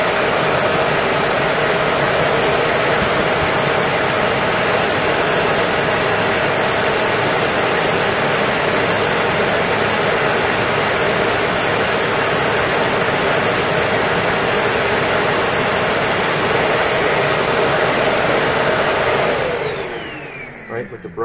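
An LG Kompressor LuV200R vacuum runs with no filters installed, a loud, steady high-pitched roar with a constant whine that holds for about twenty seconds before cutting off and winding down at the end.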